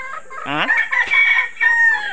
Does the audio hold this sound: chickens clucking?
yes